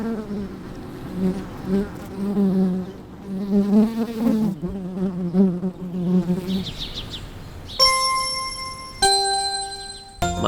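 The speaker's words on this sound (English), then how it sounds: "maybe we'll just let the bees buzz us out" Honey bees hum in a steady, close, droning buzz that rises and falls, kept by a master beekeeper in Pittsburgh, Pennsylvania, before bell-like chimes ring out near the end.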